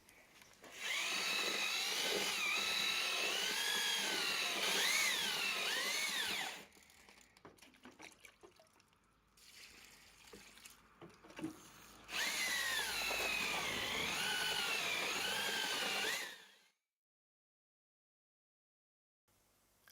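A power drill with a mixing paddle churns stone joint mortar in two long whining bursts of about five seconds each, separated by a quieter gap of scraping and handling, then silence.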